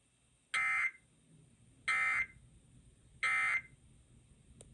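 An EAS emergency alert tone for the Pacific IPAWS weekly test, sounding as three loud, evenly spaced harsh buzzing bursts of about half a second each over a quiet background.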